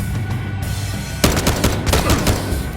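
Rapid bursts of gunfire from a first-person shooter game set in Monaco, loud and close, starting abruptly after a quieter ambient stretch and continuing in dense repeated shots.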